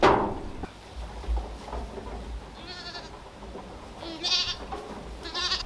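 Goats in a pen bleat several times at moderate distance, wavering nasal calls spaced across a background of soft rustling and a few knocks.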